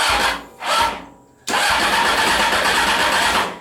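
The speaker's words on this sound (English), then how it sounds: "this turns the engine on, see if it'll turn over." A Honda CBR 600 motorcycle engine, fitted to a reverse trike, cranks over twice in short bursts, then catches and runs steadily, loud and close.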